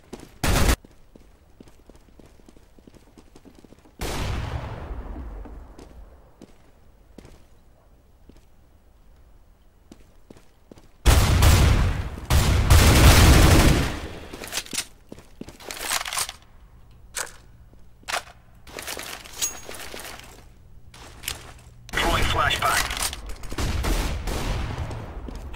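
Burst-fire gunshots in the video game CS:GO: scattered sharp reports, then a dense loud volley midway and further rapid bursts with clicks and game effects, with no talk over the shooting.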